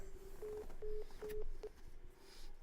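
A telephone line on a live call-in stream gives four short, evenly spaced keypad beeps, faint over background hiss.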